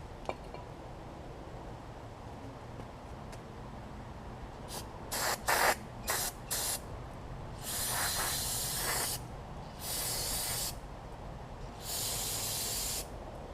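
Cleaner sprayed into the carburetor bowl of a Troy Bilt Tomahawk chipper: a few short hissing bursts, then three longer steady sprays, close and loud over a quiet background.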